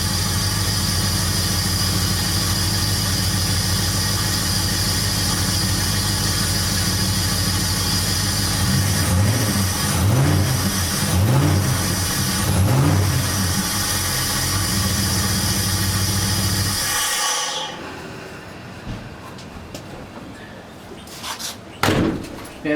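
A 1938 Chevy engine idles steadily, then revs up in several rising and falling bursts before cutting off abruptly, followed by a few sharp clunks.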